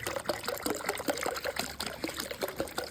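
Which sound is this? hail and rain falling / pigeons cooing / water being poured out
water being poured out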